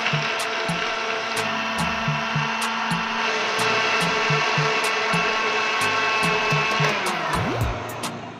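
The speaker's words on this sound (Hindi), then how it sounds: "अभी हम इसको 1 से 2 मिनट के लिए मज़ीद ग्राइंड करेंगे।" A blender grinds a strawberry milkshake with ice and milk, a loud, steady motor whir with rattling chunks that runs without a break before winding down near the end.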